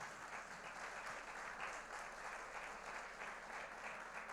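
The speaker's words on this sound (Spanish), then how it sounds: "Dele una ofrenda de palmas al Señor" A church congregation claps in praise during a Spanish-language sermon, a continuous, even wash of hands heard quietly and at some distance.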